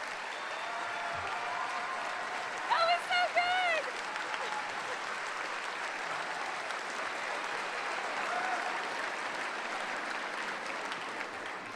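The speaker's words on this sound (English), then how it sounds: "So please stand and applaud my teacher, Miss Meyerson." Steady applause from an audience honouring a teacher at a teacher-of-the-year ceremony, a sustained wash of clapping with a few brief brighter tones and some voices mixed in.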